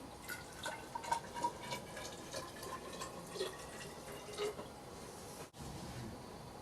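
Methanol from a freshly opened bottle is poured into a measuring container up to the 100 millilitre mark. A soft, continuous liquid trickle with faint splashy drips runs throughout, with no voices.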